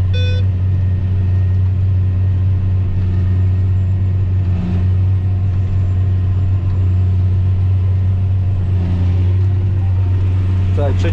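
A John Deere 9520 tractor pulling a Horsch Focus 6TD seed drill during sowing, its loud, steady, heavy diesel drone filling the cab continuously while people talk over it.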